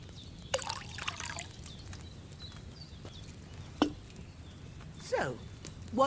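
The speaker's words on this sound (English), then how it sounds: "First, you have to pour the right base into the cauldron." Wine poured from a pitcher into a cauldron in Kingdom Come: Deliverance II, with a faint liquid splash and trickle followed by a few soft thuds and gurgles over quiet background ambience.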